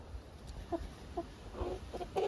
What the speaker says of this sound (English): we're going to start with these Rhode Island Red cockerels here